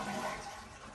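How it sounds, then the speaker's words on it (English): Water sloshes and drains out of a toilet during bathroom floor demolition, a short faint gurgling rush. "See if I can get the rest of the water out here."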